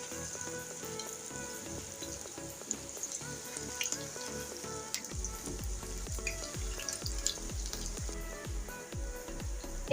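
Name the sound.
frying pointed gourd (potol) snack in oil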